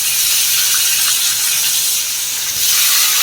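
Garlic, ginger and whole spices including cardamom, pepper, fennel and cumin sizzling in hot oil, along with onion, coriander, mint and curry leaves, a loud steady hiss close up with no voices.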